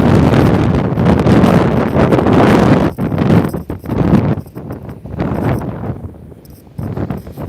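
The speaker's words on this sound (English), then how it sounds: "Blooming wind, stop." Strong wind buffeting the microphone on a countryside walk, loud roaring gusts that come and go in bursts, with no talk over them.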